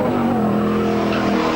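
A 5.0L Holden or Ford touring car races through the Bathurst circuit during the 1997 Bathurst 1000 shootout, its engine a loud, steady, close drone with a hint of tyre scrub throughout.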